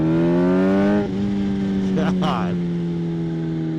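Kawasaki Z H2 supercharged motorcycle on the road: a loud, steady engine drone with strong harmonics that briefly dips in pitch and then holds, wind rushing throughout, and a rider speaking briefly over it.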